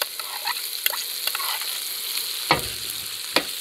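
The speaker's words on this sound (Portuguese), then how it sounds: "vamos colocar aqui os cubinhos de pernil também" Cubes of pork leg fry in a hot pan for a country-style paella, giving a steady close sizzle with occasional stirring scrapes and clacks, no talking.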